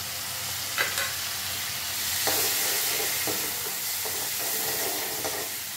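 Finely chopped tomato sautéing in a pan for methi varanfal, a steady sizzle and hiss with a few scraping stirs, close and moderately loud, no voices.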